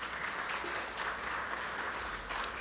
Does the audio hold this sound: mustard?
no